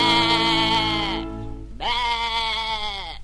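A sheep bleats twice up close, two long wavering cries separated by a brief pause, loud and clear with nothing else around them.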